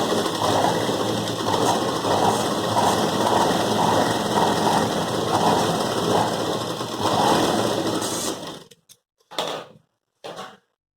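A sewing machine runs steadily, stitching a carry bag made from a blouse piece. The motor whirs continuously for about eight seconds, then stops and gives two short bursts.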